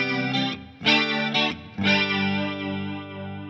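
Electric guitar through a TC Electronic flanger pedal at reduced depth, a few short strummed chords and then a held chord with the swept flanging tone moving in and out, close and fairly loud, with no voices.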